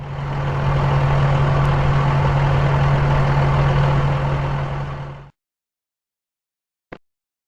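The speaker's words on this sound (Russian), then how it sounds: "Бульдозер." A bulldozer engine runs in a steady, loud, low droning hum for about five seconds, then cuts off abruptly; a single brief click follows in the silence.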